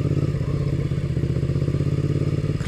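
The engine of an International Scout off-road vehicle rumbles steadily up close while driving, a loud, even low-pitched throb with a fast pulsing beat and no clear gear change audible.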